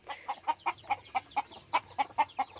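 Pet hens cluck in a quick, regular series of about a dozen short calls close by, with faint chick peeps in the background and no talking.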